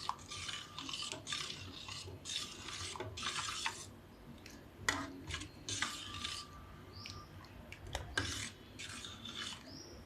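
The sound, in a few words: stirring curd mixture for perugu charu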